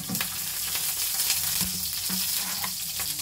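Fennel seeds and curry leaves sizzling in hot oil, a loud, dense, continuous crackle heard up close with a few sharper pops scattered through it.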